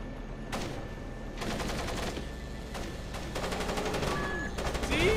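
Enemy gunfire in the Splinter Cell video game: repeated bursts of automatic shots in several rapid volleys, loud and close, with a few electronic game tones near the end.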